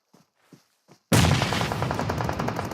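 Rapid automatic gunfire from a competitive shooter game, a loud continuous burst that starts abruptly after a few faint soft thuds and keeps going to the end.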